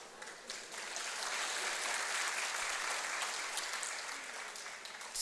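Sustained audience applause at a literary talk, a broad steady clapping from a large crowd that holds level for several seconds, faint and slightly distant.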